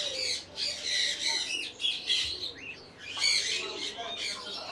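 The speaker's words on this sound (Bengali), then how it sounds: "সবগুলো ময়ূর একসাথে এক জায়গায় আছে" Several peacocks gathered together let out loud, harsh squawking calls in overlapping bursts, near and repeated, with other birds chirping faintly in the background.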